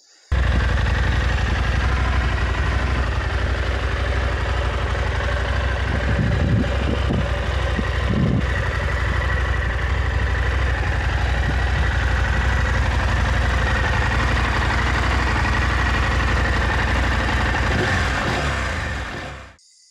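Husqvarna Norden 901 Expedition adventure motorcycle sitting at idle, a steady low engine drone held close and loud for almost twenty seconds, with a few brief mechanical ticks partway through and no talking.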